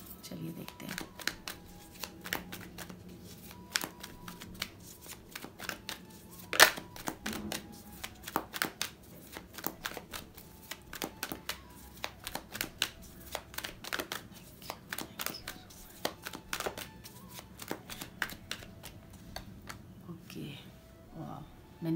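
Tarot cards being handled and shuffled at close range, a series of sharp papery riffles and slaps in irregular bursts, with soft rustling between them.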